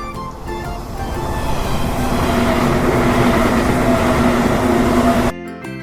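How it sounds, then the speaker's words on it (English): A train rumbles loudly at a railway station in an animated neighborhood scene, a broad, steady roar that swells and then cuts off abruptly near the end. "This is the railway station."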